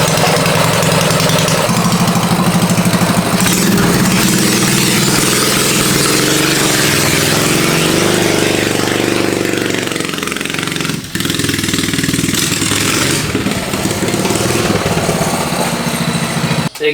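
A mini bike engine with a loose exhaust runs loud and steady at close range, a continuous rattling drone that barely changes throughout.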